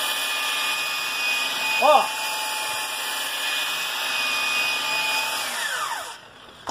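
An electric polisher fitted with sandpaper runs at speed setting 2 on wood, giving a steady, fairly loud whirring drone, while someone speaks briefly over it before the tool winds down.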